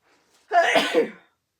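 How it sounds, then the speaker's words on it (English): A single sharp sneeze, close and fairly loud, preceded by a brief quiet intake of breath. "I'm going to sneeze."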